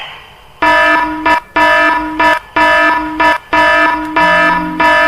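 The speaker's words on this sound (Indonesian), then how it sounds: "Oke, alarm sudah berbunyi." A SCADA pump fault alarm blares in repeated pulses, each lasting about a second with short gaps, a harsh multi-tone buzz sounding nearby.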